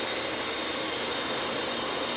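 A helicopter flies overhead near an emergency scene, heard as a steady, fairly faint engine and rotor drone with no talk.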